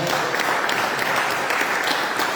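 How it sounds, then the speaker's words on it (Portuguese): Church congregation applauding, a dense, steady burst of clapping from many hands filling the room for a couple of seconds. "Vamos aplaudir Jesus."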